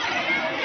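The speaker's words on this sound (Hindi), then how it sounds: "दोस्तों बहुत सारी भीड़ है पार्क में" A crowd chatters in a busy park, a dense, steady babble of many overlapping voices close around, continuous and fairly loud through the brief moment.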